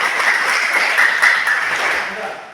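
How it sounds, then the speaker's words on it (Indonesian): A classroom of children clap together in a cheer, a dense, steady burst of hand claps blended with young voices for a couple of seconds. "2 kali tepuk, kamu hebat"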